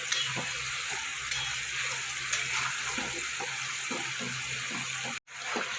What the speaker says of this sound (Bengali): সমস্ত মশলা আমি ভালো করে কষে নিতে হবে